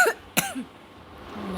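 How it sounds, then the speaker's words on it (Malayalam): A cough, apparently from a character in a Roblox game: a sharp burst near the start and a stronger single cough a moment later, followed by faint background noise. "അറിയില്ല, ചുമക്കുണ്ട്."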